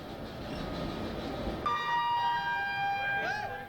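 Train at Rishikesh railway station: a steady rumble of rolling noise, then a sustained, tonal horn or whistle that sounds loud over the continuing din, with no talking.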